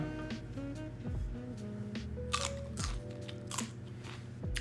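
A single crisp bite into a roasted firecracker green bean, a short crunch rising over steady kitchen background noise, followed by close chewing.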